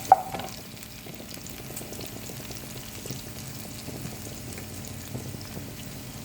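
Half an onion sizzles steadily in a hot pan while being stirred, a busy crackle with faint scraping that runs the whole time, cooked for a quick bread-and-egg pizza.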